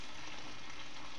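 Cabbage hits a hot pan and is stir-fried alongside softened sweet potato, giving a dense, even sizzle that fills the moment from start to finish at close range.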